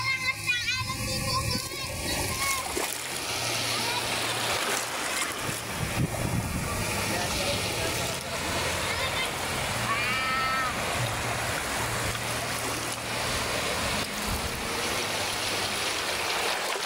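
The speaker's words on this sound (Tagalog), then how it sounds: "ang lakas ng alon dito" Strong sea waves wash around a boat off Palawan, a steady broadband roar of surf and splashing water filling the whole stretch, with a voice and other people faintly heard over the water.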